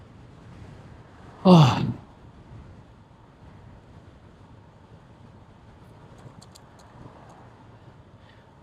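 A strong gust of wind slams the microphone outdoors, a brief loud roaring buffet that fades within half a second, leaving a steady low rumble of moving air with a faint scattered tick.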